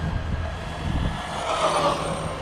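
A Redcat Volcano EPX Pro RC truck running at full throttle outdoors, a steady electric motor whine with tire and drivetrain rumble that rises in pitch as it speeds away, continuous and fairly loud, no voices.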